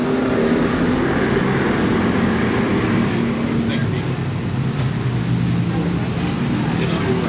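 Street stock race cars roar around Seekonk Speedway during a 1995 heat race, a dense, continuous engine drone from the pack heard at a distance beneath a track announcer's steady commentary.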